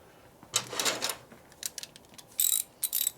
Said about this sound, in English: A bigger ratchet for that.